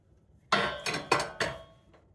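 Dishes clink and clatter while braised lettuce is plated onto a serving plate, four sharp close knocks of ceramic and utensils in a quiet kitchen, then a faint fifth tap.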